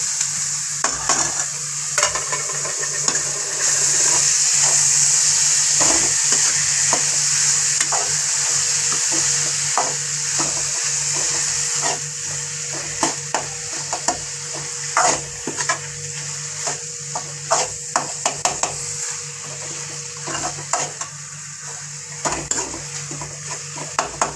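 Paneer is stirred into a sizzling onion masala in a pan while cooking a Punjabi paneer sabzi. A steady close sizzle runs throughout, broken by rhythmic scraping and clinking strokes of the spoon against the pan.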